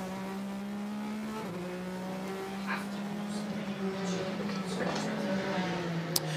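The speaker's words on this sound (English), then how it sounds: "On board with a 91 Porsche." Porsche 911 race engine at Le Mans heard from on board, a steady droning note with pitch dips through gear shifts and faint tyre and wind noise, under low commentary.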